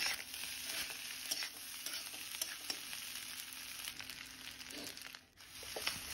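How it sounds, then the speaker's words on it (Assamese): Chicken stir-fries in a pan for home-style mixed fried rice, a steady bright sizzle with intermittent scraping and stirring strokes close by, no voices. "চিকেনখিনি অলপ আমি ফ্ৰাই কৰি লম"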